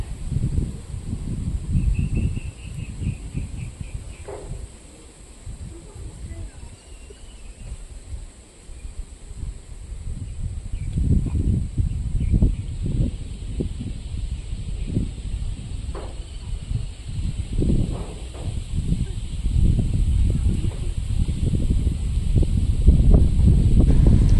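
Strong wind at a lake viewpoint in Tiaong, Quezon buffets the microphone in rough low gusts that swell and fade without a break across the whole stretch, with faint chirps and rustling behind.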